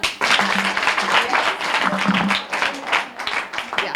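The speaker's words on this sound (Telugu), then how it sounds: "ఒక్కసారి క్లాప్స్ కొట్టండి అన్న" An audience bursts into loud, sustained clapping and applause at a birthday celebration held in a government hostel, dense and continuous, with voices faintly under it.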